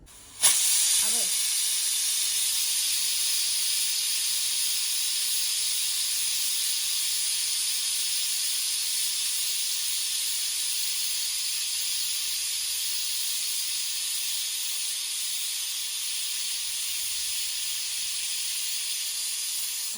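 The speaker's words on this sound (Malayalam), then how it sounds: "കുക്കർ ചെറുതായിട്ട് പൊട്ടിട്ടുണ്ട് ഗൈസ്" Pressure cooker on the stove cooking beef curry, slightly broken, letting out a loud continuous steam hiss that starts abruptly and holds steady for a long stretch, close and alone.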